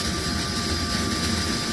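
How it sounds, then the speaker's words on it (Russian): The auxiliary power unit of an An-124 cargo aircraft runs with a steady, loud, broadband roar and a constant whining tone, unchanging throughout. "Это пока работает ВСУ."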